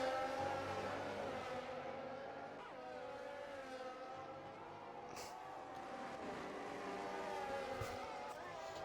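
F1 race cars in a video game scream down the main straight at Bahrain, a sustained high engine whine with gear-shift pitch changes, heard under a commentator's voice.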